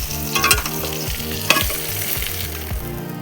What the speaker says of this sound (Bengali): 1 চামচ লবণ দিয়ে পটলটাকে ভালো করে ভেজে নেব।